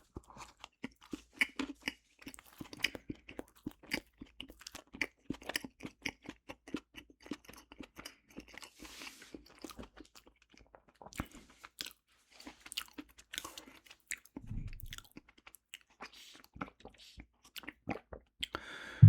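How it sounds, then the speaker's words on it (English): Lay's Stax crisp sandwiches crunched and chewed close to the mic, a steady run of quick crisp bites and chomps with brief pauses, mostly alone with a quiet moment of other noise near the end. "This makes a nice crunch, though, I will say."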